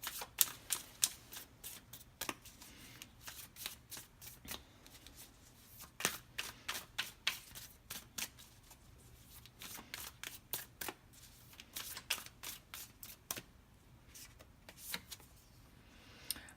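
A deck of oracle cards is shuffled by hand in rapid, crisp riffling bursts, repeated flicks and slaps close up with short pauses between rounds and no talking.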